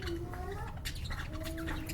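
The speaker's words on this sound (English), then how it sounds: "I plan to take the sound of lovebirds." Lovebirds give brief high chirps and twittering notes over a dense, noisy background, close and fairly faint, with no clear talk.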